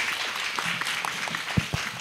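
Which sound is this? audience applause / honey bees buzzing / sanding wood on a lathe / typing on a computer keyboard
audience applause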